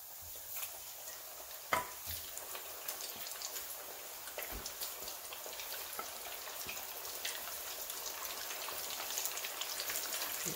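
Steady crackling and sizzling of chicken feet deep-frying in hot oil, a dense continuous fizz with a few sharper pops, no talking.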